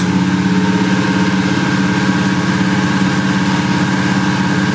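A supercharged 5.4 V8 in a 2002 Ford F150 Lightning that is logging lean codes P0171 and P0174 holds a loud, steady raised idle under light throttle, rumbling close by with a constant whine on top.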